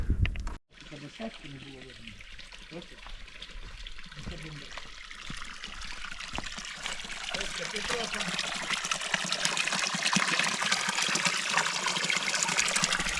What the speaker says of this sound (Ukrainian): Це по всій дорозі у нас буде зустрічатися така гірська вода, в якій можна буде попити води або умитися.